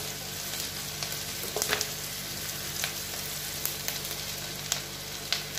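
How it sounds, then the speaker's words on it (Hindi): Onions fry gently in a pan for a bread roll recipe, a steady close sizzle broken by occasional crackles and pops, with no voices over it. "हमारी प्याज हमें ज्यादा पकाना नहीं है"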